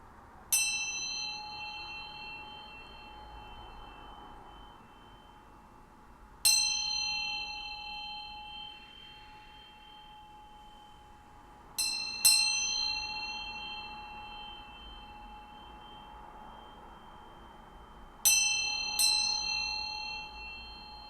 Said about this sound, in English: I'm going to ring this bell to bring some nice vibes in here